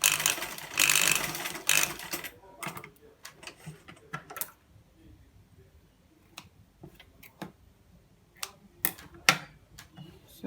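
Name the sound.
sewing machine stitching a kids top armhole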